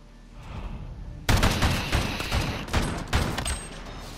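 Gunfire from a gunfight under floodlights crackles out in a sharp burst of rapid overlapping shots, followed by several more loud, close volleys over a rumbling background.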